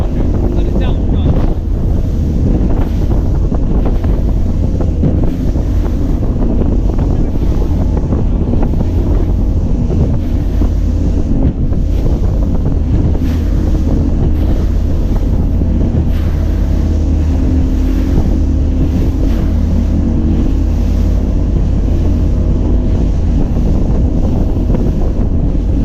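A bass boat runs at about 20-25 mph across closely spaced waves of 1.5 to 2.5 feet on southern Lake Michigan, with a steady roar of wind, hull and engine noise and someone speaking over it.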